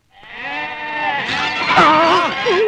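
Goats bleat in a loud, wavering chorus close by, several animals calling over one another, with people talking underneath.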